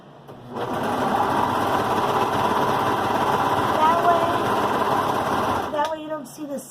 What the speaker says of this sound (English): I'm going to serge it while it's open, not closed.